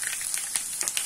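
Chopped garlic fries in hot oil with a soft, steady sizzle and small crackling pops, close and faint, with no voices.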